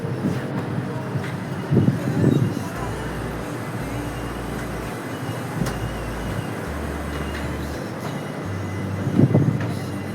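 A train runs along the line near a goods station, with a steady rumbling roll and rhythmic low clatter of the wheels. A few brief louder thumps rise over the continuous noise.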